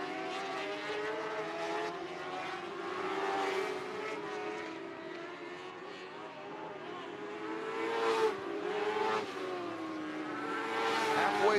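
Dwarf cars racing in a heat race at Sunset Speedway Park, engines droning steadily at mid distance with rising surges as cars pass, a broad continuous roar throughout.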